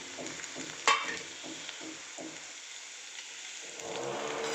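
Bitter gourd (karela) pieces tipped into a hot pan and stir-fried for a bitter gourd vegetable dish, with a sharp clatter near the start, soft scraping strokes, then a rising steady sizzle toward the end.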